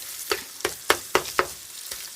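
Sausage frying in a pan, with a soft sizzle under a series of sharp spitting pops that come roughly every quarter second and fade toward the end.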